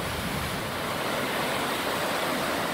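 The South Fork Yuba River runs high and cold in spring, a dense, even roar of rushing water with no pauses and no other sounds.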